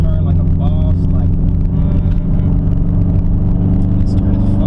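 A Subaru STi takes a turn, its engine holding a loud, steady drone throughout with no clear rise or fall, while a person speaks over it.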